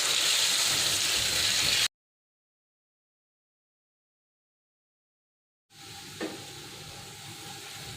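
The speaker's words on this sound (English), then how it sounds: "we will add our onion, ginger, garlic and cashew paste. And turn the gas down. Let this cook for a little while" Onion, ginger, garlic and cashew paste sizzles in hot oil over a lowered gas flame. A close, steady frying hiss cuts out into silence for a few seconds, then resumes more quietly, with no talk.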